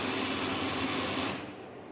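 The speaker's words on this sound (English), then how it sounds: "only the drum moves, but the page is white, completely white" An HP printer runs with its drum turning while it feeds out a blank white page: a steady, close mechanical whir and rattle that drops to a quieter hum near the end.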